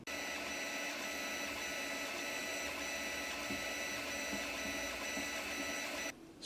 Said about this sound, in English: At the moment, 3D printers upstairs, printing away